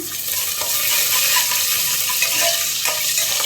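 Green chillies, three or four of them, fry on a low flame in a pan with other ingredients, giving a steady close sizzle with light stirring scrapes and no talk.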